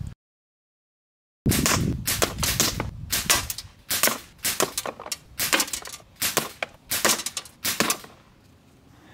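A Sig Sauer .177 air rifle running on HPA fires a string of shots at a target, roughly a dozen sharp cracks spaced irregularly with brief pauses, close and loud, no talking.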